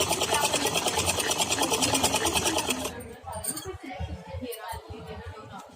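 A sewing machine whirs rapidly and close while stitching a round belt onto a churidar pajama, running steadily for about three seconds before stopping as a person begins talking.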